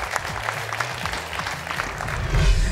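Audience applause after a stage performance, a steady dense patter of many hands clapping close by that swells slightly louder toward the end, with low music tones underneath.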